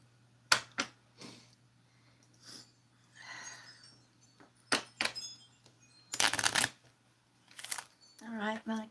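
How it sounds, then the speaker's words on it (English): A deck of cards being shuffled and handled, several sharp riffling bursts and flicks spaced through the clip, with a louder longer riffle near the middle and a person speaking briefly at the end. "What I'm going to do is shuffle, cut it in half, put the bottom on the top, flip it over, pull one card off."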